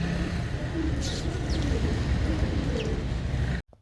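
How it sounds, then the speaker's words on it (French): Pigeons in an outdoor public spot, with soft cooing and brief bursts of wing flapping as the birds take off, over steady background traffic and ambient noise before an abrupt cutoff. "les enfants aiment faire peur aux pigeons et les faire s'envoler dans la panique générale"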